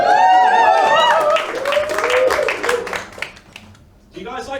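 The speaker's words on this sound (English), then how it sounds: "Big round of applause." Audience applause at a live Christmas comedy show fills the room loudly for several seconds, mixed with whoops and shouting voices, then fades into a brief pause before speech starts.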